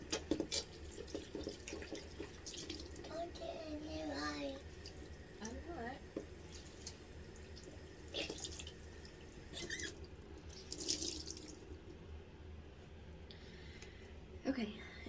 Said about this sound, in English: I'm going to rinse my hands and get my washcloth wet.